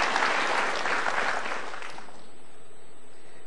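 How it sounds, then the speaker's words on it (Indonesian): Audience applause at a motivational talk, a burst of dense clapping that fades out after about two seconds into quiet. "Kita berikan tepuk tangan."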